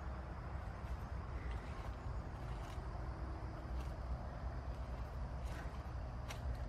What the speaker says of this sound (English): There's some traffic noise also.